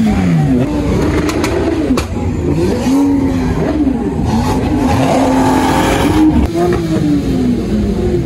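A Mercedes SLS sports car pulls away on a Los Angeles street, its engine revving loud and close with pitch rising and falling through the gears over steady road noise.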